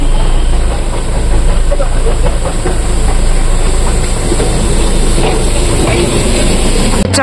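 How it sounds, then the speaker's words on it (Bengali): Darjeeling's narrow-gauge toy train rumbling past on the Hill Cart Road, a steady loud engine drone and rolling rail noise filling the whole stretch close by, with brief voices mixed in. "ওই যে আসছে আমাদের টয় ট্রেন।"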